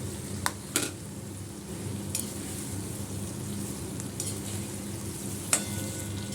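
Potatoes frying in a pan with onion, tomato and fried rohu fish for kalia give a faint, steady low sizzle with a few soft clinks of a spatula against the pan, no talking.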